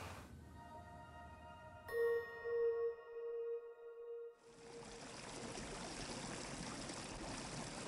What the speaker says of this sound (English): all of these sounds are the sounds of bubbles being made.